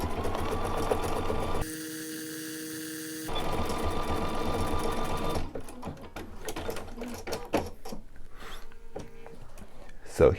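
A sewing machine stitches a quilt label in steady bursts, with a pause where the motor changes pitch, then a quieter stretch of short handling sounds and light clicks toward the end.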